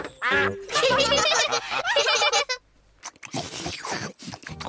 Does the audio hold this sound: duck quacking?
yes